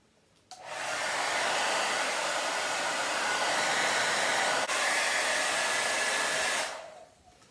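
Hair dryer blowing on silver leaf applied to furniture, a steady loud whoosh that starts abruptly, runs for about six seconds with one tiny dip, then cuts off, with no talk.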